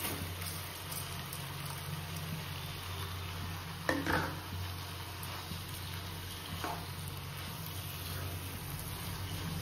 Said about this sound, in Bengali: একটু মশলার সাথে ভালো মতো ভেজে নেব।